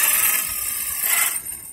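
A Losi DBXL gas-powered RC truck with a 13-horsepower setup putters at low throttle, a buzzing, slightly uneven engine drone that swells and eases with light blips, close by and with no talking.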